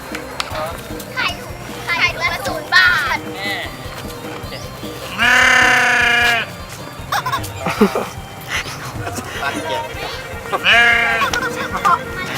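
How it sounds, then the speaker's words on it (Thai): Live sheep bleat loudly on a farm visit in Sakon Nakhon, Thailand, with a long wavering cry in the middle and another near the end, amid shorter calls and background voices and children. "เราไปสัมภาษณ์แกะตัวจริงๆเดี๋ยวครับ"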